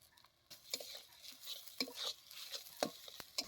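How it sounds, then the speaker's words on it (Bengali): Grated coconut is stirred with spice paste in a pan, giving a quiet, soft sizzle under intermittent scraping strokes and light taps of the spoon against the pan. "এখন আমরা নারকেলটাকে মশলার সাথে ভালো করে কষিয়ে নেব"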